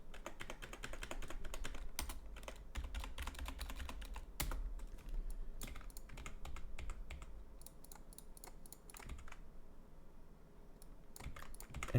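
Steady typing on a computer keyboard while entering example data, a quiet, close run of rapid key clicks with brief pauses and occasional heavier keystrokes.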